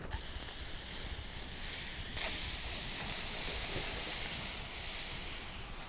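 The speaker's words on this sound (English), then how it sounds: "Now we need to leave that to start to sear" Lamb shoulder searing directly over an open fire gives a steady, loud broadband hiss that holds for the whole stretch with no voices.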